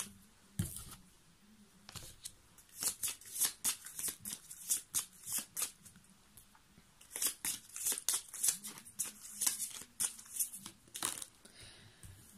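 Tarot cards being shuffled by hand, a run of quick papery riffles and slides in irregular bursts with short pauses, close and fairly quiet, with no talking.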